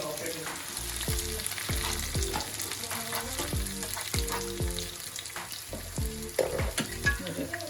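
Dried red chillies fry in hot oil for a cumin chicken dish, a steady sizzle under repeated spatula stirs and scrapes that knock through the clip at close range.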